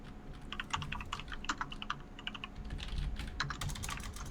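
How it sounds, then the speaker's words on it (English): Rapid, irregular keystrokes on a computer keyboard during a podcast recording, close and steady throughout with no talking over them. "That's me typing."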